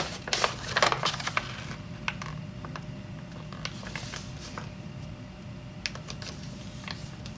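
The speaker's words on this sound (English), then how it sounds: "let's start by taking this edge and folding it over to this crease" Paper being folded and creased for an origami magic ball, with soft crinkles and sharp crisp taps scattered across a quiet background, a cluster of rustling near the start and lighter creasing sounds later.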